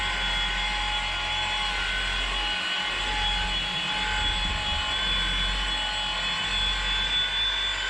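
An XFE car polishing machine running on painted bodywork gives a loud, steady motor whine with a constant hum, close and unbroken throughout, no speech.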